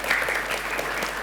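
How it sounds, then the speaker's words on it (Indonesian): Students and spectators at a junior high school quiz competition in Palembang applaud in a brief, lively burst of many hands clapping together at close range. "Boleh kita tepuk tangannya?"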